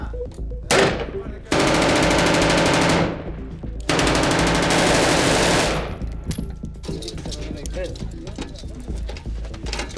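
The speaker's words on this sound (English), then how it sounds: "they're laying down suppressing fire against snipers." Soldiers on a wall lay down suppressing fire against snipers during fighting in Kandahar: long, dense bursts of automatic gunfire, loud and close, broken by brief pauses, then quieter scattered shots and background noise.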